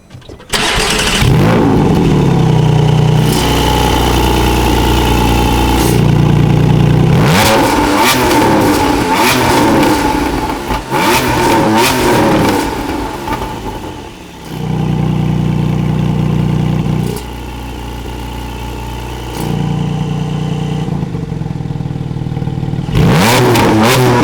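A Porsche GT4 with a 4-litre engine starts and revs hard several times, loud sharp bursts climbing high, dropping back to a rumbling idle between blips.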